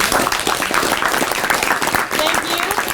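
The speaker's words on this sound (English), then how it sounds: "Give everyone a round of applause." Audience applause fills a candidate forum for county commissioner hopefuls, a dense steady clapping that runs loud and continuous throughout with some crowd noise mixed in.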